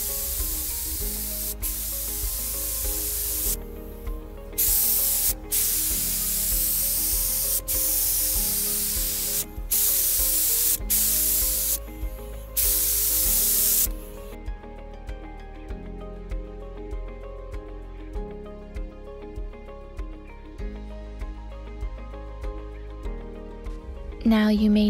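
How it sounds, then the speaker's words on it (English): Spray gun applying thinned water-based primer to a piece of free curbside furniture being refinished, hissing in long continuous bursts with short pauses between passes, close and loud, with faint music and a voice underneath. "I did have a little bit of trouble spraying at first, but after a while I added some water and it made it go much smoother"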